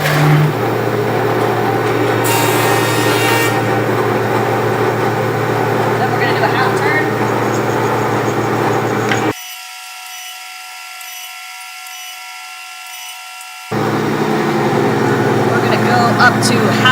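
Wood planer feeding a board down from three-quarter inch to half an inch, a loud steady mechanical roar with a cutting whine, cutting off abruptly to a near-quiet hum before the machine noise returns.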